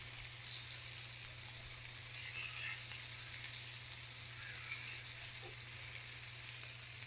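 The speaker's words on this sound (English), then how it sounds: "all you're getting going for is just a quick sear" Chunks of beef sear in a hot pan for barbacoa, giving a steady, close sizzle that runs throughout without a break and with no voices.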